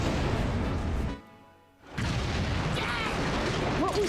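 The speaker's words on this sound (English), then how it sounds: "What was that? An explosion?" A loud, broadband explosion on a moving train in a Fullmetal Alchemist game, a dense rumbling roar that cuts off briefly into near silence, then surges back as a sustained, noisy blast with crackling debris.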